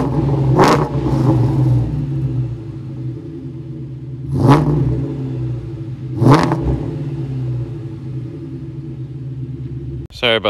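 A car being prepped for a dyno run after a pulley and plug change idles with a steady low rumble. It is revved sharply three times, with each rev a loud, close exhaust burst that quickly falls back to idle.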